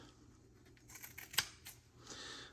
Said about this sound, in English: So we're just gonna cut off a little piece.